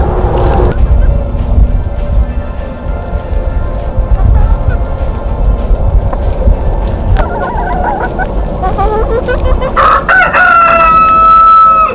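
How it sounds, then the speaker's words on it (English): Chickens being fed black soldier fly larvae cluck, squawk and crow loudly at close range, a busy flock chorus with a rooster's crow rising toward the end over rumbling background noise. "these are their chickens running around"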